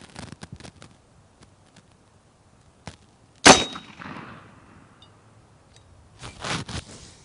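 A single sharp crack as an air rifle fires, close and loud, followed by a short ringing tail, with faint handling clicks before it and some rustling afterward.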